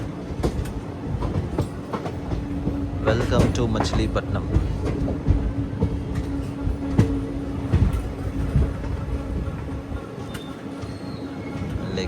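Machilipatnam Express (17220) from Visakhapatnam rolling into Machilipatnam station: a continuous low rumble of the carriages with clanks and faint wheel squeals as it slows, and a voice talking over it.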